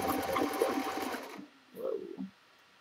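Sewing machine running a straight stitch on pajama pants, a steady mechanical whir for just over a second that stops abruptly, followed by a few faint low thumps.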